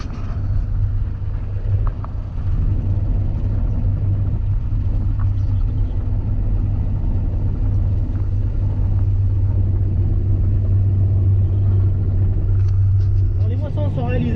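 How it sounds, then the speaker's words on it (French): A Claas Lexion 740 hybrid combine harvester fitted with a flexible header harvests soybeans in a field, giving a steady, loud low engine rumble and drone that runs unbroken throughout. "Alors là on est sur une Lexion 740, une machine hybride"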